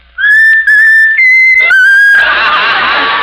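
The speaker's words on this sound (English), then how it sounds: "How about whistling the tune that you like best of all?" A talking mynah bird whistles a short tune, clear sustained tones in a few stepped phrases with brief gaps, loud and close, then breaking into a noisy hiss at the end.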